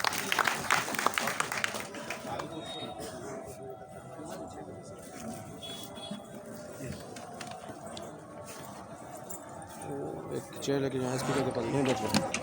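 An audience claps at a Jan Suraaj political rally in Madhubani, Bihar. Bursts of applause rise at the start and again near the end, with someone speaking over the crowd in between.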